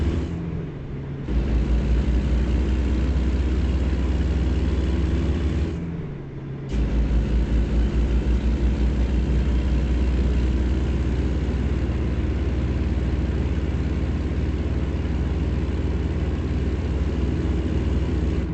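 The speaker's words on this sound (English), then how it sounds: "Oh, look, I love that engine sound." A heavy truck engine idles in American Truck Simulator, a deep, steady low rumble that drops out briefly twice, then resumes and holds constant and loud to the end.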